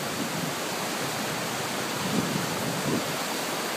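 River at its mouth in Brittany, flowing past a waterside house where the water is not navigable, a dense, constant rushing wash, loud and close, with no voices over it.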